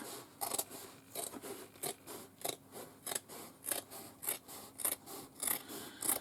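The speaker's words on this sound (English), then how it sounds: "that's where I'm going to cut my foam off." Scissors snip through foam for a vinyl bag in a steady series of about a dozen crisp, evenly spaced cuts, close and fairly quiet, with no talking.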